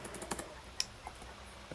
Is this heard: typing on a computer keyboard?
yes